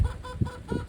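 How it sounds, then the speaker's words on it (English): Low, throaty clucking from a few chickens in short repeated bursts, fairly close, with a bit of background murmur. "you can hear the chickens behind me."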